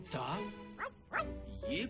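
A dog in an animated Hindi film gives a few short barks and yips, close and quiet, in brief bursts that mix with speech-like sounds.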